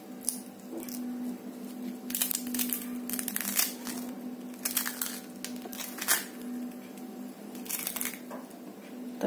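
Crisp chakli made from roasted chana dal snapping and crunching as it is broken by hand, a series of sharp close crackles in quick irregular bursts over quiet background.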